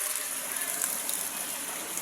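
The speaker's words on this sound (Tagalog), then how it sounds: "Maawas na dito yung tubig." Spring water from a natural bukal water source in Kabasyaran gushing steadily and overflowing, a continuous close rushing wash with no pauses.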